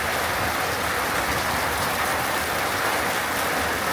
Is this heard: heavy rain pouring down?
yes